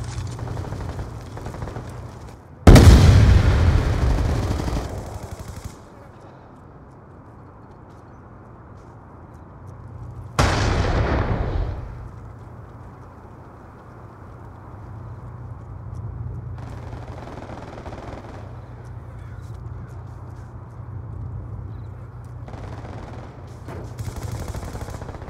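Flash grenade and grenade explosions in the Black Ops 2 video game: two loud bursts several seconds apart, each with a decaying roar, over a steady low background hum.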